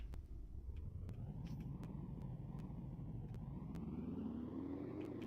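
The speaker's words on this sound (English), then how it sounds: "the engine noises are definitely tied to velocity because as it was gaining velocity from the fall" A vehicle engine in a sandbox video game rumbles steadily for several seconds, its pitch slowly rising as speed builds, with faint clicks scattered over the drone.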